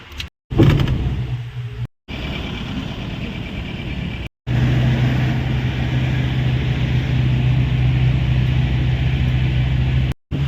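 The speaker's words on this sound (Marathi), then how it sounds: "छान डोंगराच्या कडेने गाडी चालू आहे" A car travels along a mountain road on the route to Kedarnath, its engine giving a steady, loud low drone heard from inside the vehicle, interrupted by a few brief dropouts.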